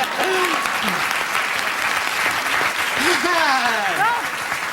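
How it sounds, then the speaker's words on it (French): A television studio audience on a comedy show breaks into loud, continuous applause while performers keep talking over it, their voices rising and falling above the steady clapping. "On applaudit!"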